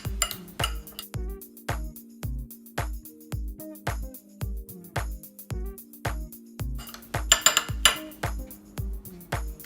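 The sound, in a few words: spoon stirring in a bowl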